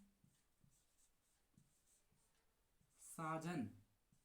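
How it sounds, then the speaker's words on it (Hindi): Writing on a board makes faint, evenly spaced strokes in a quiet room, then a voice speaks briefly near the end. "अभी मैं यहां लिख रहा हूं, साजन"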